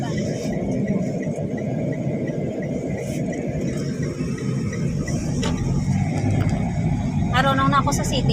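A car drives through city traffic in Iloilo, giving a steady low engine and road rumble throughout, with a brief horn-like chirp near the end and faint voices in the background.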